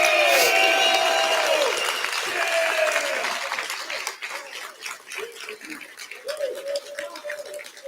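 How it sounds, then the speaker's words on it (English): Applause at an online conference welcoming a speaker to the stage, strong clapping at first that thins and fades while a bird coos and warbling tones come through. "Let's give Danny a big round of applause and welcome him to the stage"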